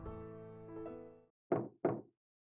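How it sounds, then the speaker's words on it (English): Two firm knocks on a door in the Chaos;Child video game, close and distinct, following a fading tonal music sting. "And then she heard a knock at the door."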